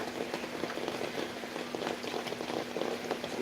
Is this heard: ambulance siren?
no